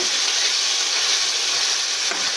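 Egg and potato curry with spice paste cooks down in oil in a pan, giving a constant, even sizzling hiss up close, uninterrupted and without speech.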